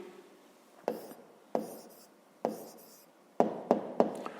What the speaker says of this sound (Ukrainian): Записуємо тоді відповідь.